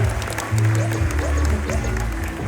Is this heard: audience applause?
yes